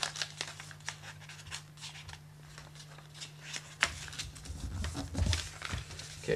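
Paper being folded and tucked into an origami money envelope, giving a steady run of soft crinkling and rustling with sharper creasing taps, close and alone, with a slightly louder stretch near the end.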